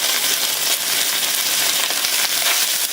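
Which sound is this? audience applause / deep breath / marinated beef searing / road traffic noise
marinated beef searing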